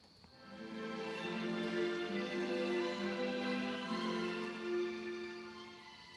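A soft, sustained orchestral chord swells, holds and gently fades, the Sibelius music notation software startup sound playing alone.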